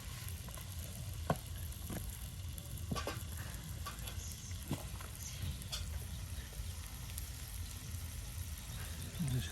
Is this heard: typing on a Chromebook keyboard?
no